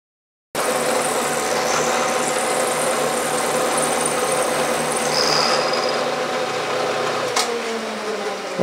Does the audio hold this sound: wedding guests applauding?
no